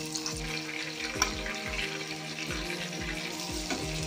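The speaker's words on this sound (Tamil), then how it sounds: "வெங்காயம் கொஞ்சம் சிம்மில் வச்சு ஒரு ப்ரௌன் கலர் வர வரைக்கும் வதக்குங்க." Onions fry in oil and ghee for a prawn biryani with a soft sizzle, overlaid by repeated short bubbling or gurgling bursts at a steady pace, with no one talking.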